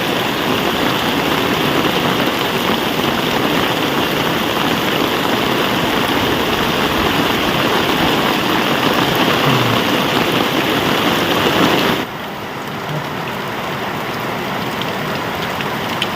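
Heavy monsoon rain pours steadily in a rural Gujarat village, a dense, loud, continuous hiss of drops drumming on surfaces that drops slightly softer near the end.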